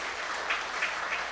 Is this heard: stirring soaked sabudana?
no